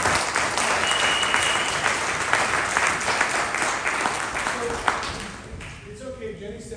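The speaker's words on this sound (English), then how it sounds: "Jenny, can everybody give Jenny a big hand clap for a second?" An audience at a motivational talk gives a warm round of applause, steady close clapping for several seconds that thins out and fades near the end, with a few faint voices emerging as it dies down.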